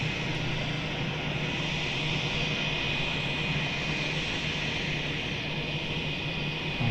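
A Jetstar jet airliner taxis for takeoff at Melbourne Airport, its engines a steady, continuous roar with a faint high whine, holding even and moderately distant throughout with no voices.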